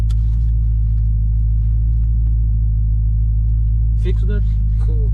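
A Dodge Charger Scat Pack idles with a loud, steady deep rumble close by, a voice speaking over it and a sharper revving burst rising near the end.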